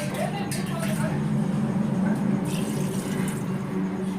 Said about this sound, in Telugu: ఇందులోనే వాటర్ పోస్తున్నాను